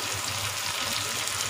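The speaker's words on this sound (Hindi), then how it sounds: "इस लेवल पे हम हल्का सा इस पर पानी डालेंगे" Water is poured onto a tomato masala in a pan, producing a loud, steady hiss and sizzle with a bubbling, frying texture throughout the short clip and no voices.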